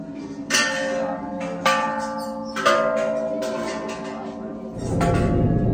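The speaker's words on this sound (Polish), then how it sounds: "Jak zwykle w każdej świątyni buddyjskiej mamy takie dzwony na szczęście." A Buddhist temple luck bell in Bangkok is struck three or four times, each loud ringing strike leaving a long metallic hum that overlaps the next, followed by a low rumble near the end.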